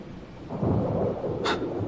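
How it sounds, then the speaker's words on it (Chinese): A storm on an island rumbles with low, rolling thunder and a windy wash outside, followed by one short sharp crack. "外面刮着这么大的风，电闪雷鸣的"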